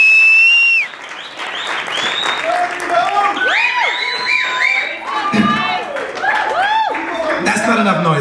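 An audience applauds and cheers for an LA Kizomba dance team at the Afro-Latin Vegas 2014 event, with clapping, high whoops and shouts rising together and an amplified voice talking over the noise.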